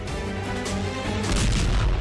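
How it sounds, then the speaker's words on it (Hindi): A second artillery shell bursts on the same spot where a Ukrainian army convoy passes in the Russia–Ukraine war near Zaporizhzhia, heard as a deep rolling boom that swells louder partway through, with no talking. "दूसरा धमाका भी वहीं होता है"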